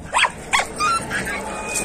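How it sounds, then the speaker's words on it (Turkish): A dog on a farm with a poultry coop gives a few sharp barks close by, two quick yelps followed by a longer whining bark, with a voice faintly underneath. "Ya şu köpek."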